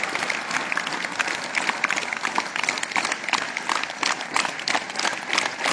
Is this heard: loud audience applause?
yes